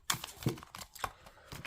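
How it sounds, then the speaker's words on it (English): A deck of tarot cards is shuffled by hand, giving a short run of light papery flicks and taps at close range, quiet and uneven, with no one speaking. "let's give these cards a shuffle."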